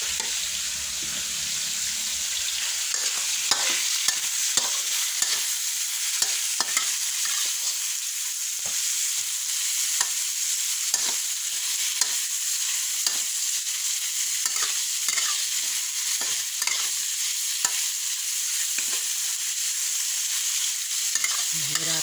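Pork, vegetables and garlic being stir-fried in a pan, with a loud steady sizzle and repeated scraping stir strokes running throughout, and no voices.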